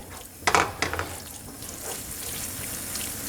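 A spoon scrapes and swishes through red tomato sauce in a pot for cabbage rolls, with a few distinct stirring strokes early on and then a soft, steady simmering hiss.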